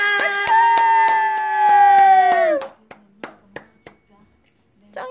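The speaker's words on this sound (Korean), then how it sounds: "아, 박수!" A few sharp hand claps from people at home during a Christmas cookie-making stream, spaced and close, following a loud sustained sung or shouted voice.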